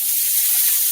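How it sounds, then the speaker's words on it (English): Water is poured into a hot pan while a sandwich cooks, giving a steady, loud hiss and rush that lasts about a second with no voices. "Toss some water in there."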